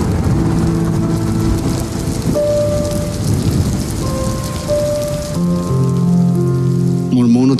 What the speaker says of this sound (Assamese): বৰষুণৰ টোপাল